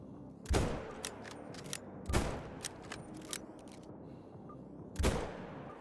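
Rifle shots ring out at black bears in a hunting video game, three sharp loud cracks spaced a couple of seconds apart, each with a booming tail, over a steady outdoor ambience.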